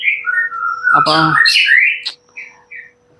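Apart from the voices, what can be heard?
white-rumped shama singing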